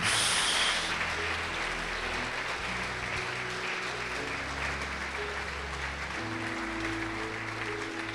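Church congregation applauding during a sermon, a steady wash of clapping at moderate level that runs the full length, with a low organ or keyboard tone sustained underneath.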